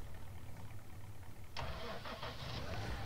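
A vehicle driving around a corner in the Farming Simulator video game, its mid-pitched engine rising abruptly into a louder, revving drone after a quiet stretch.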